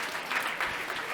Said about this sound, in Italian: Applaudiamola, ecco, vieni pure.